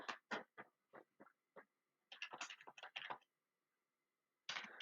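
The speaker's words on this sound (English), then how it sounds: "I'm actually going to type this out." Keystrokes on a computer keyboard come in quick bursts of close, crisp taps, a few scattered clicks, then a dense flurry, a pause, and another run of typing in a quiet room.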